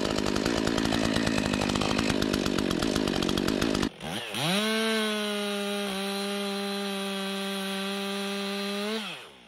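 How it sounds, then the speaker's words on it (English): A Stihl MS-362 chainsaw is pull-started, then roars into a loud, steady idle with a high whine after an initial rev-up, heard close and alone without talk. "if you hold the chainsaw between your knees, you can pull it and start it here"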